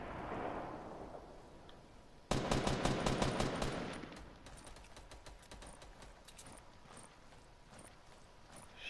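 A grenade launcher in Fortnite erupts in a sudden loud burst of rapid, sharp repeated blasts and clatter. The volley then thins into scattered cracks over a low background rumble.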